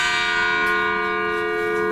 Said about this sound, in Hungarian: A toronyban három harang lakik. Nagy harang!